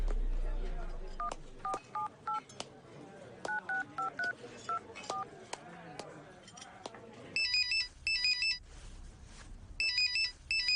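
Telephone keypad dialing tones beep in quick separate bursts through the first seven seconds over low background sound, followed by loud repeated electronic ringing in pulsed groups from a phone in an indoor scene.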